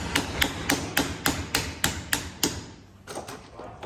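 Hammer tapping a socket down onto a part of a 1974 Kubota tractor: about nine sharp metallic strikes at an even, quick rhythm, a short pause, then a few more taps.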